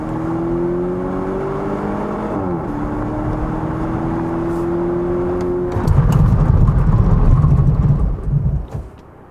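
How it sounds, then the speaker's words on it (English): A 2021 Volvo V90 Cross Country B5 AWD wagon on 235/50 R19 tyres brakes hard to a stop: a steady engine hum with a shifting tone gives way to a loud, rough rumbling roar that cuts off near the end. "why don't we go check out the braking performance of this Volvo V90 crossover"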